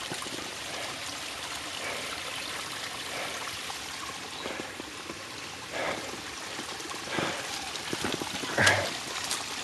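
Water trickles and gurgles steadily from springs beside a hiking trail in Devil's Den State Park, a soft continuous flow with a few brief louder splashes.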